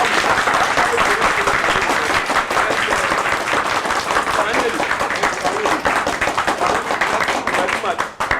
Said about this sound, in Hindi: एक बार ताली बजाएं अपने लिए, जोर से।